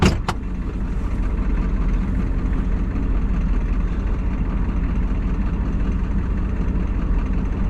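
Truck engine running in four-wheel drive low range with everything locked, a steady low rumble close by that holds unbroken and loud throughout, with a brief sharper knock at the very start.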